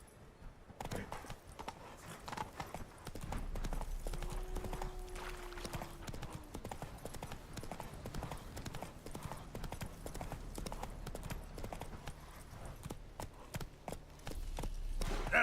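Roach the horse galloping in The Witcher 3, with quick, steady hoofbeats drumming close by throughout and a brief whinny partway in. No voices are heard.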